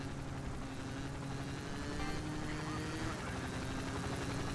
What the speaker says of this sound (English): Because now the helicopter is going to be faster than me.